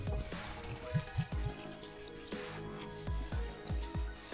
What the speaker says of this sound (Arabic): تنجم تصب ماء